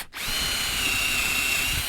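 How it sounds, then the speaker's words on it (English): An electric drill starts up and then whines steadily, close and loud, boring 8mm holes in a wooden arch raised panel door, with no talk. "You stick this in a drill, and we're going to drill the 2 holes on the outside first of all"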